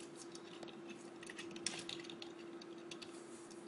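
Typing on a computer keyboard: soft, quick keystroke clicks in irregular bursts over a steady low electrical hum, close and faint.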